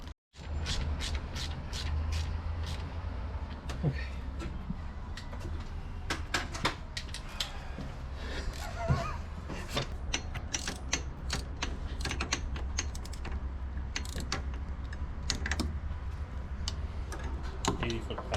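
Rapid ratcheting clicks from a torque wrench tightening wheel nuts on a Mazda FD3S to 80 foot-pounds, a dense run of sharp ticks over steady low background rumble throughout.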